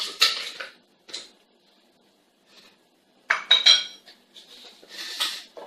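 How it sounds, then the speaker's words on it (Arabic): Pumpkin pieces dropped into a blender jar while making a juice, giving a few close clinks and knocks in short separate bursts with quiet gaps between them. "غادي ناخذ ميكسور، غادي ندير فيها هذه القرعه"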